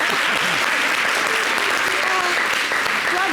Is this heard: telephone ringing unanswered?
no